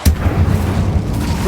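An Incendio fire spell cast in Hogwarts Legacy, a deep booming burst of flame that rumbles on for over a second.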